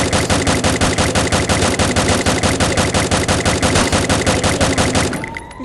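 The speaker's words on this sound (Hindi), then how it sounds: "फिर उसको थोड़ी सी और गोलियाँ मारी" Sustained rapid automatic gunfire from Free Fire, a steady loud burst of closely spaced shots running for about five seconds before cutting off, no voices.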